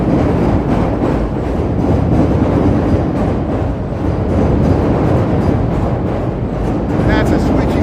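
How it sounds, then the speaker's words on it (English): A Chicago L Pink Line train passing near a busy elevated junction at midday in January, a loud sustained rumble and clatter of wheels on rails, close by with steady intensity. "Here comes the pink line heading the other way."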